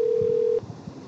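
A phone call is being dialed: a steady dial tone cuts off after about half a second, then faint line noise and soft clicks follow.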